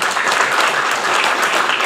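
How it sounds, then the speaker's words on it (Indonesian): Loud, dense applause from a campus orientation crowd welcoming the student council vice chair, a continuous wash of clapping hands held at steady strength throughout. "Beri tepuk tangan."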